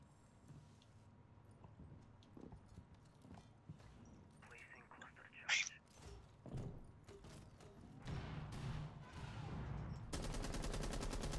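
Gunfire in the video game Rainbow Six Siege, heard as scattered sharp shots and thuds during a private 3v3 match, mixed with game noise while players talk over it.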